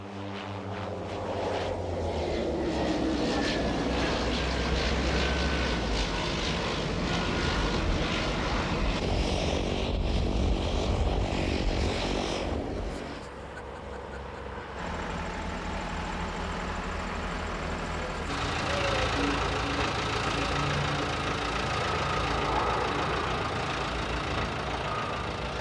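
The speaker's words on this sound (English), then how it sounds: "admire the planes landing on the race's most dangerous runway" Propeller airplanes landing one after another on a short 950-meter runway at Nuuk during the 1992 air race, a steady engine and propeller drone that swells and fades as each aircraft passes, with no talk.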